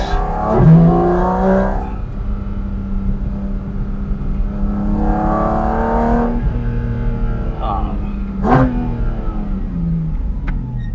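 Porsche Cayman GT4 RS engine pulling hard up a Swiss Alpine pass, a steady rising drone that swells and fades in loud surges, with a sharp burst near the end and someone talking over it.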